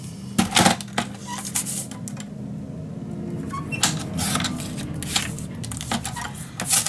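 Paper being cut to size by hand for a scrapbook mini album, giving a series of sharp snips and crisp rustles in irregular bursts, close and fairly loud, with no talking.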